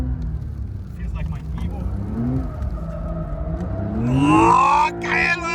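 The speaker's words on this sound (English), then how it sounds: "This is what all-wheel drive slides in the Porsche." A Porsche 992 Dakar with all-wheel drive slides through deep snow, its engine droning low and then rising into a loud revving surge near the end, while someone talks excitedly over it.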